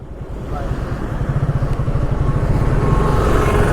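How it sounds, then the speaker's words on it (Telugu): A motorcycle runs continuously while being ridden on a road trip from Punjab toward Jammu and Kashmir, its engine droning close and loud with a faint rhythmic throb and some wind. "ఇక్కడ నుంచి ఇంకా బైక్ రైడ్ భయా"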